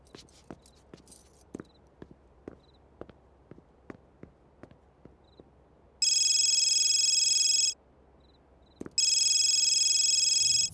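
A telephone rings in two long electronic bursts, the first from about six to eight seconds and the second starting near nine, loud and close, following quiet sparse clicks and taps.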